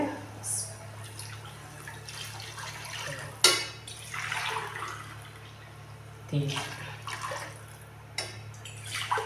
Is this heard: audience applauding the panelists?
no